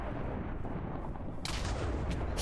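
Loud rumbling blasts from a custom Minecraft mob fill the scene, a dense continuous roar with a sharp bright burst partway through, followed by crackling debris.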